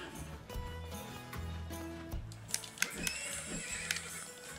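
A horse whinnies and its hooves clip-clop in the Disney Infinity video game, Lone Ranger setting, with a long neigh over rhythmic hoofbeats and a few sharp clatters near the end, no talking.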